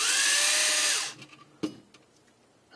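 A powered screwdriver whirs steadily on the end plate screws of an HP 88A (CC388A) toner cartridge for about a second and winds down, followed by a few faint clicks and one sharp tap.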